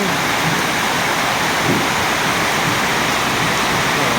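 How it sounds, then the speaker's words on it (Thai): Heavy rain pours down on a garage workshop in a storm, a loud, unbroken, hissing roar of water that stays dense and even from start to finish, with no voices. "โอ้โหเสียงสุดยอดปังปังปัง ฝนตกฟ้าร้อง"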